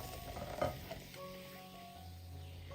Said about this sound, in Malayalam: ഇതെല്ലാം ഒന്ന് ഇളക്കി യോജിപ്പിച്ചെടുക്കാം.